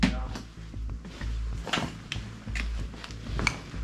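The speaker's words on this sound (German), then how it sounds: "Ja, klopft draußen." Knocking from outside an abandoned building comes as several irregular hard thuds and clatters, fairly close, with faint voices in the background.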